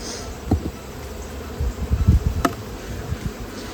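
Honey bees buzzing around a beehive fitted with in-hive feeders, a faint steady hum with occasional closer insects passing, plus a few soft knocks and handling sounds nearby; no talking.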